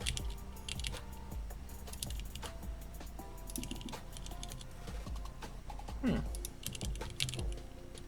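Typing on an Iris split ergonomic mechanical keyboard, with quick clusters of clacky keystrokes in irregular bursts and brief pauses, close and moderately quiet.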